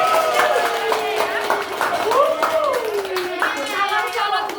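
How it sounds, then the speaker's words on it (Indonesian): Applause from an audience praising students' Islamic education teaching media, a steady patter of clapping hands mixed with voices and a rising vocal tone, fairly close and continuous. "Tepuk tangan semua."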